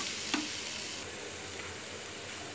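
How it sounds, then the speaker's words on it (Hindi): Turmeric, garam masala and other ground spices frying in a pan, a steady close sizzle with a brief stirring scrape near the start, no voices. "अब इन सभी को डालकर अच्छे से मैं थोड़ी देर भून लेती हूँ, 2 से 3 मिनट, ताकि मसाला मेरे अच्छे से भून जाए।"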